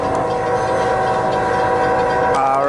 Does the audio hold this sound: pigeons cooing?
no